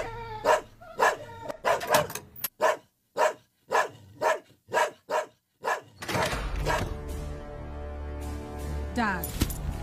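A dog barks loudly and close by, about ten sharp barks in a quick, fairly even rhythm. The barks then give way to a louder, noisy background rush.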